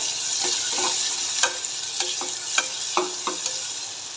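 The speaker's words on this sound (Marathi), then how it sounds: "कांद्याला छान असं गोल्डन ब्राऊन कलर येईपर्यंत आपल्याला परतून घ्यायचं आहे तेलात" Finely chopped onion and green chillies fry in hot oil in a pan, a continuous close sizzle with several soft scraping stirs spaced through it.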